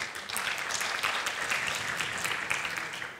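Steady audience applause at an association's annual general meeting, a moderately quiet wash of many hands clapping continuously for a few seconds with no talk over it.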